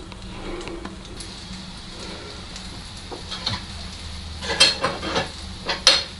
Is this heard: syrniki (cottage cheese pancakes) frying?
yes